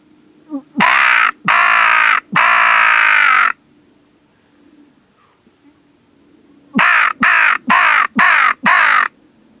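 A Sameyt FT3 crow call blown during a crow and pigeon hunt gives loud, harsh caws close by: three drawn-out calls, a quiet pause, then a rapid run of five shorter caws.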